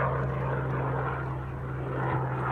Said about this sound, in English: Big noisy helicopter going by.